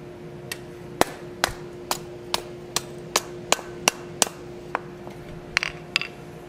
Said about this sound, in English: I like working this piece down around the horn of the anvil